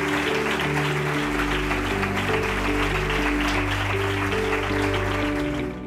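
Applause at the Premios Andalucía 2022 award ceremony as a company manager goes up to collect his prize: steady, dense clapping from a large audience running under loud sustained music throughout.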